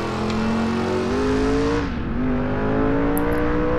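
An old Jaguar car drives past in the Driver San Francisco video game, a loud continuous engine drone with a pitch that rises, dips sharply midway, then steadies, with no talking over it.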